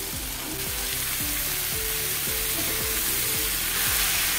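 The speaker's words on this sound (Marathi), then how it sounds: "यामध्ये आपण मशरूम घालणार आहोत." Sliced mushrooms fry in an Indian masala in a hot pan, giving a steady, close sizzle broken by regular scraping strokes of a spatula.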